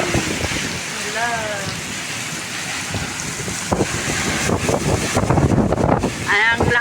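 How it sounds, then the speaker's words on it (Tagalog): Heavy rain in Dubai lashed by strong wind, a broad roaring wash with gusty buffeting against the microphone, while voices talk over it intermittently. "Ang lakas na ng ulan niya."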